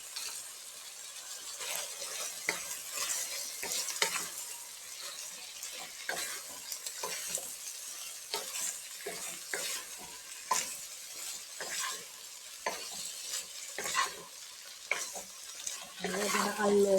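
Pumpkin, carrot, tomato and other vegetables with saltfish for Jamaican ackee and saltfish seasoned rice crackle and sizzle in a pot, with steady close spoon clacks and scrapes as they are stirred.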